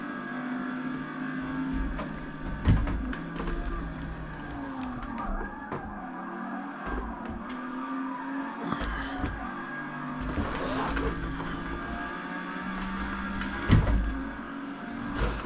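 A race car in the Forza Motorsport video game holds a continuous engine drone that rises and falls through gear changes, with occasional tire squeal and sharp knocks.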